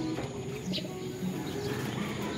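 Racing pigeons cooing in a loft, low soft coos repeating through steady background noise, moderately near and continuous.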